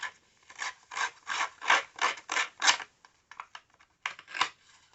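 Edges of scrapbook paper are distressed with a tool, a series of close, quiet rhythmic scraping rubs in quick bursts, pausing briefly before a few more strokes, no talk.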